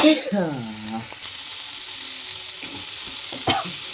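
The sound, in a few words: stirring and frying onions and tomato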